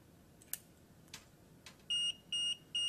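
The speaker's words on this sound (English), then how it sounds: "So I've just simulated a fault on the plumb guard. The alarm will go off." An HLP Plumb Guard alarm sounds after a simulated fault: a few faint clicks, then three loud, evenly spaced electronic beeps, each lasting about a quarter second, close by with no talking.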